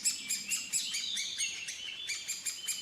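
Birds chirp in rapid succession, repeating high, bright tweets and short calls close by with no other sounds.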